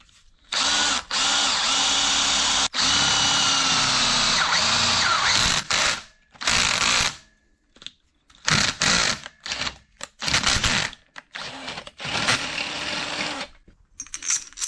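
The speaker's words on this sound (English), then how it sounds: "line it up, and drill all the way through." A power drill bores a 17/64-inch clearance hole through a clamp for a 1/4-inch bolt, running loud and close in several bursts: one long run, then shorter stop-start pulses separated by silence.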